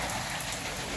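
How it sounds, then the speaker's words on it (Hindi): Heavy rain with hail pours down in Lahore as a dense, even hiss of drops drumming on surfaces, continuous and fairly faint throughout the brief moment. "आज बर्फ और बर्फबारी होगी, ओले पड़े यार, कमाल हो गया"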